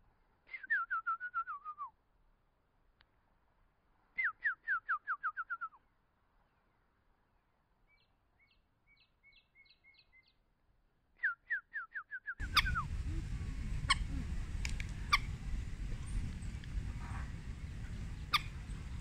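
A bird calls three times with a quick falling, whistled phrase, faint and spaced several seconds apart, with a few thin high peeps between. A loud, steady rushing noise then takes over.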